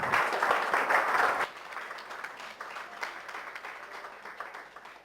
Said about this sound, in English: Audience, please give them a big round of applause.